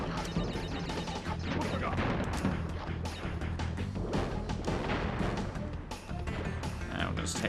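Wooden crates being smashed in the video game Crash Bandicoot 2, a rapid series of sharp cracking breaks and thuds layered over busy game music and effects.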